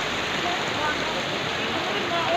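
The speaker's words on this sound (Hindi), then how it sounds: "ऊपर से सारे झरना का पानी है अति सुंदर" A waterfall at a scenic holy site pours water down from above, making a dense, continuous rushing hiss that stays loud and close without pause.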